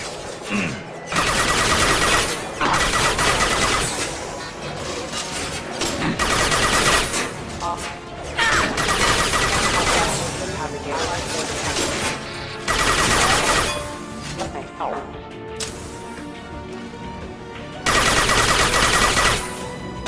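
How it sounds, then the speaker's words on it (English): Gunfire and a weapon's impact shot in the Mass Effect 2 shooter, loud repeated bursts of shots separated by brief lulls, with combat clatter and effects filling the gaps. "Firing an impact shot!"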